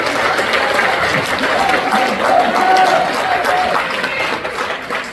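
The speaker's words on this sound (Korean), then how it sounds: "오늘 박수 한번 드립니다" Broad, steady applause from a large audience at a gathering to encourage party leadership candidate Kim Moon-soo, sustained clapping and crowd murmur throughout with a faint voice over it.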